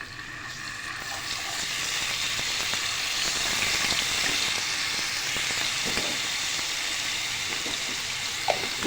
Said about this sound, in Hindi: लहसुन अदरक के पेस्ट को हमने साथ साथ फ्राई करना है प्याज और मिर्चों के।